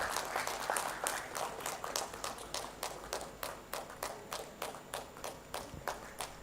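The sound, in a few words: audience applause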